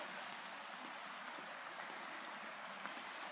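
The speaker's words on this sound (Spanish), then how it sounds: "Escuchas el río." A river rushes through a forest in the Swiss Alps, a steady broadband hiss of flowing water heard continuously and fairly close, with no voices.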